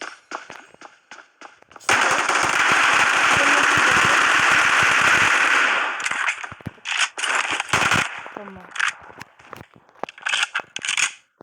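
Gunfire in the video game PUBG: a few sharp single shots, then a long loud burst of automatic fire, followed by scattered shots and short bursts, close and without talk.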